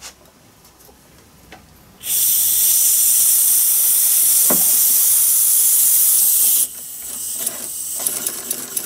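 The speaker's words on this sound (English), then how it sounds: "So let me turn the compressed air on and stoop down a little bit." Compressed air drives a scratch-built Gauge 1 live steam model engine, a loud continuous hiss starting abruptly and holding steady for several seconds before dropping to a softer, uneven sputter.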